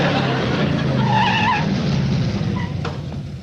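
A loud motorcycle engine roars past close by with a brief high tire squeal as it skids, the roar fading slightly toward the end.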